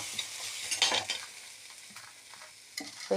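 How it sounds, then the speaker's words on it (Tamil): Grated coconut lightly sautéed and stirred in a pan for a narthangai thovaiyal, with soft sizzling, scraping strokes of a spoon and a few louder clinks, no talk. "அடுத்தது தேங்காய் போட்டுடலாம். லேசாக வதக்கிட்டு"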